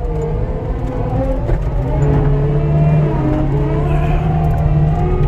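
A truck engine labouring up a snowy road, a loud, close, steady drone with a gear shift partway through as the revs rise and settle.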